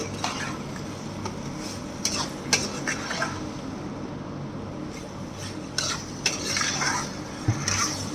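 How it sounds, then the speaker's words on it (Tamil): Elephant foot yam cutlet mixture being stirred and fried dry in a pan, with steady close scraping and clinking of a metal spoon against the pan over a low frying hiss, several sharper knocks standing out. "நல்லா இப்படி ட்ரை ஆகிற வரைக்கும் சுருள சுருள வறுத்து எடுத்துக்கோங்க"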